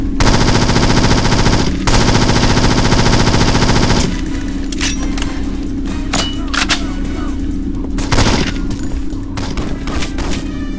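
Rapid automatic gunfire from a video game shootout in 007: Nightfire on PC, loud and continuous for the first four seconds, then scattered bursts and single shots over steady background noise.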